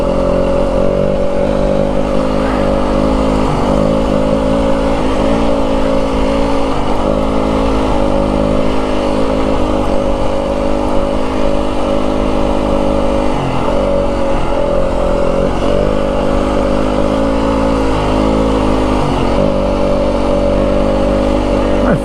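A 2025 Yamaha WR250F dirt bike climbs a steady incline in first gear on a rough desert wash in Arizona's Dragoon Mountains, its engine droning loud and constant, with rhythmic surges as the throttle varies.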